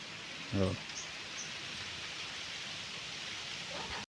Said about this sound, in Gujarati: હવે થોડોક વરસાદ વધ્યો છે તો એટલે તમને અવાજ ઉપરથી ખબર પડતી છે